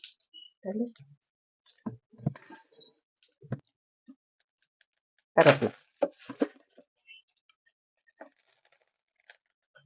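Mustard seeds and cumin crackle in hot oil while tempering a coconut chutney, giving scattered sharp pops and clicks, with a louder burst of spitting midway and quieter sparse crackles in between.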